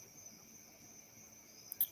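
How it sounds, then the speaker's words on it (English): Crickets chirp in a steady, faint, high trill that holds evenly across the short stretch, with a small click near the end. "the crickets are starting to rock out here"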